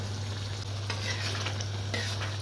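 Base gravy for restaurant-style chicken Kashmiri sizzles loudly in a very hot pan as it is stirred, a dense continuous hiss with a low steady hum underneath and no talking.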